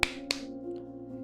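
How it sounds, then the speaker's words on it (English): Two sharp claps from hands smacked together in someone's face ring out about a third of a second apart, crisp and close, over a faint steady hum. "clapping his hands in my face in a very obnoxious yet effective way"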